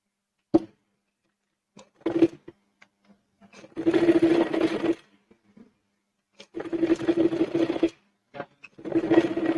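A sewing machine runs in short bursts while stitching a sleeve, with a close mechanical whir in three main runs separated by quiet pauses and small clicks.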